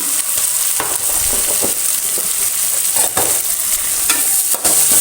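Tomato and turmeric frying with onion in a pan for a Kundapur-style oyster masala, giving a loud, continuous bright sizzle with repeated stirring scrapes throughout, close up and with no talking.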